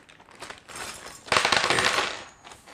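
Small metal screws from a CPU cooler fixings bag rattle and clink together in a plastic bag, shaken in a few close, bright bursts with one longer jingling spell in the middle.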